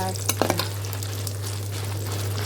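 Dried red chillies frying in a pan, a soft, even sizzle with a few quick stirring clicks near the start over a steady low hum.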